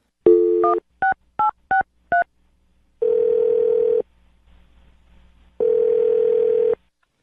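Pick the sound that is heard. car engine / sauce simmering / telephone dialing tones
telephone dialing tones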